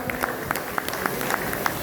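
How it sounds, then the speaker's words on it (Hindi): Audience applause at a direct selling and network marketing event as founders are called onto the stage, steady scattered clapping with distinct individual claps throughout, no talking. "तालियां बजाते रहिए।"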